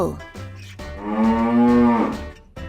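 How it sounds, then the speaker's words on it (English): A bull gives a deep, sustained moo up close, a single long bellowing call framed by shorter grunting breaths before and after. "Bull."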